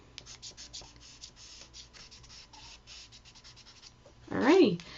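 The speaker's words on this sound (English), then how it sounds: "I kind of make my little sketch doodle lines" A pen sketches doodle lines on paper, with faint, quick scratchy strokes in a loose rhythm, followed by a louder rubbing scrape near the end.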